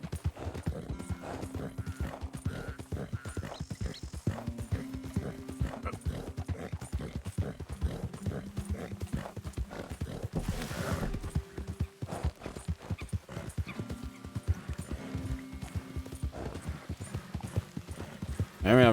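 Horse hooves clip-clop at a steady gallop in Red Dead Redemption 2, a rapid continuous beat with a whinny near the end, while someone talks over the game sound.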